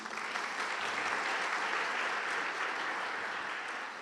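An audience applauds warmly, dense clapping that swells at once and holds fairly steady for several seconds before easing slightly, with no voice standing out.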